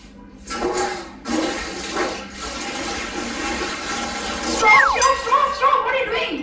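Tap water runs into a pet's water bowl, filling it until it spills over. The stream gushes in bursts and then pours steadily, with a clink of the bowl near the end, while people talk over it.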